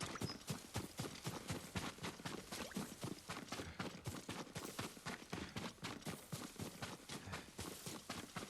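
Steady clip-clop of horse hooves walking at an even rhythm in the video game Ghost of Tsushima, close and continuous, with no voices over it.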